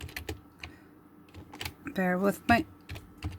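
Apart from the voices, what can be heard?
typing text on a computer keyboard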